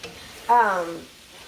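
Faint sizzling of ground beef frying in a pan, with a brief squealing tone rising out of the hiss for about half a second.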